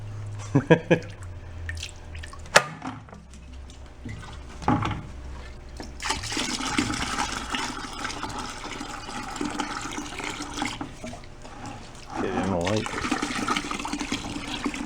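Liquid dripping out of holes in a rusty Honda Trail 90 fuel tank left sitting 37 years, with a few distinct drips early on, then steady splattering and trickling liquid, and someone talking over it.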